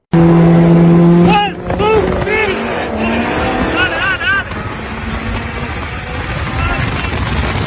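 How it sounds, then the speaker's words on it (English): A boosted Honda Civic races a Dodge Challenger, with loud engine roars and rising revs close by, tire noise, and excited voices talking over it after a sharp opening tone. "We have a Honda Civic versus a Dodge Challenger."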